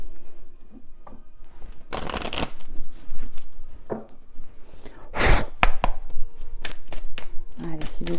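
Oracle card deck shuffled by hand in short riffling bursts, loud and close, with quieter handling taps and rustles between them and a faint voice in the background.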